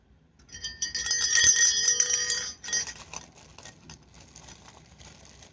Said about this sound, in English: this big bell.